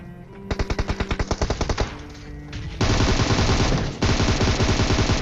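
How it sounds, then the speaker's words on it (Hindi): Bursts of automatic gunfire from the PUBG Mobile battle game, a rapid regular rattle of shots followed by a denser, louder sustained volley with a brief break, heard alone without talk. "तभी दूर से जो है फायरिंग स्टार्ट होती है"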